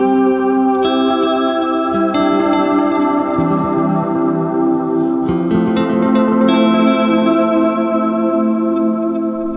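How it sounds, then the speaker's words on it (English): Picked electric guitar notes ring through stacked delay effects, each strong note trailing into layered echoes and shimmering repeats that build into a dense ambient wash. "I'm picking pretty prominent notes here just to see what the delays are doing"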